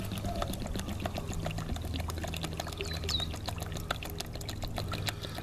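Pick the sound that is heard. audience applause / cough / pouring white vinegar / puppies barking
pouring white vinegar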